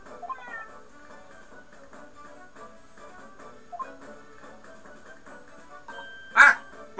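A cat meowing in the video game The Great Ace Attorney, a short, loud, close meow standing out near the end over quiet game music and soft effects.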